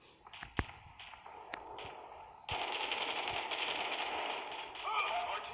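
Gunfire in the mobile shooter Modern Strike, scattered single shots and clicks at first, then a dense sustained burst of rapid fire and game effects, fairly faint throughout.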